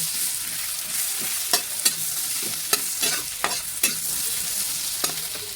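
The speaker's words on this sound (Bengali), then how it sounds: "এইটা ভাজা হতে থাক।" Onion and mashed boiled potato fry in a pan with a soft continuous sizzle, punctuated by several sharp scraping clicks of a spatula stirring against the pan, close and clear with no talk.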